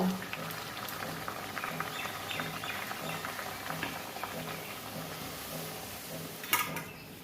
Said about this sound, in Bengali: এভাবে আমি সব একটা একটা করে ভেজে নেব